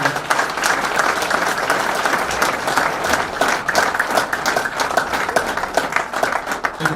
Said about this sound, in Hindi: एक बार सागर जोशी सर के लिए बहुत बहुत जोरदार तालियां।